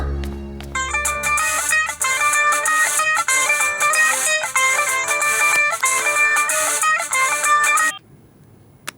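A phone rings with a bright electronic ringtone melody, repeating its pattern loudly for about eight seconds before cutting off.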